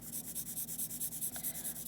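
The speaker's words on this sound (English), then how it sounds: "I'm going to use my charcoal or my graphite pencil, or my softest one that is easiest for me to blend in" A graphite pencil shades on paper in a steady rhythm of about fourteen quick back-and-forth strokes, soft, close and scratchy, with no voices.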